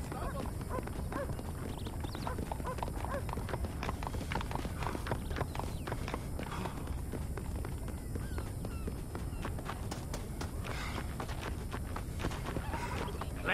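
Rapid clip-clop of a horse's galloping hooves in the video game Red Dead Redemption runs steadily throughout, loud and close, with no pauses.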